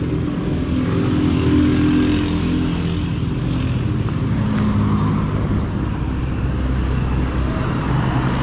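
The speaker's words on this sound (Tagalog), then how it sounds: "karamihan ng lumadaan dito ay tricycle lang tsaka mga private car" Steady engine rumble and road noise from motorized tricycles and private cars passing along a town street in San Vicente, a continuous low drone with no clear gaps and no voices.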